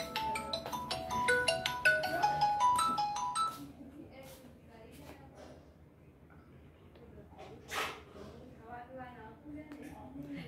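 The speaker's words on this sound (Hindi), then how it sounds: "ये किसका फोन आया है" A ringtone melody plays for a few seconds, with chatter and room noise continuing after it stops.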